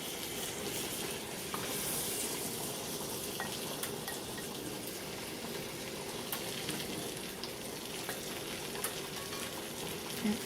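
Quartered potatoes sizzling in a skillet around garlic pork, a steady dense crackle and hiss of frying fat throughout, close and even, with a few faint clinks.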